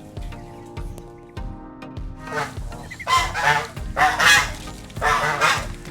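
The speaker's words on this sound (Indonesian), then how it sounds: "resikonya kalau punya angsa seperti itu, berisik terus ya" Geese honk loudly and repeatedly, harsh calls building from scattered notes to a noisy, overlapping chorus close by.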